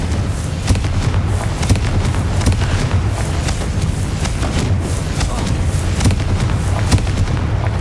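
Confringo blasting curse explosions in the Hogwarts Legacy video game, a dense run of loud booming blasts and thuds repeating every second or so over constant rumbling battle noise.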